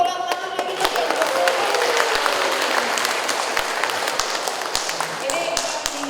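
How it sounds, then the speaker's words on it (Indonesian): An audience applauds at a seminar presentation, with dense clapping and scattered sharp individual claps continuing steadily and fairly loudly while voices talk over it. "Beri tepuk tangan lagi."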